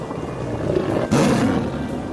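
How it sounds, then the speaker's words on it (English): A tiger lets out a single loud, rough roar that swells and fades over about two seconds, heard alone with no talk. "And there's a tiger."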